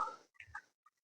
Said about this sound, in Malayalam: കിളികളൊക്കെ ശബ്ദം കേൾക്കുന്നുണ്ട്